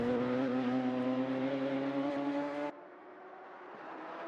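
Radical SR3 race car lapping Road America, its engine a steady, loud, harmonic drone for under three seconds before it drops off sharply, leaving a fainter, more distant engine hum.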